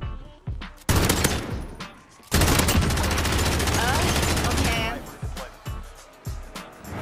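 Gunfire in the video game Warzone: a few sharp single shots, then two long, dense bursts of rapid automatic fire, and more scattered crisp shots trailing after, all loud and close.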